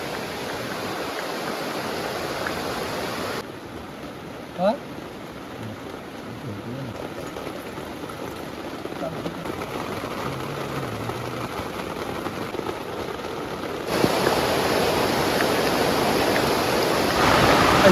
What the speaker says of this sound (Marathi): पाऊस बघा निसपाटच पाऊस चालू आहे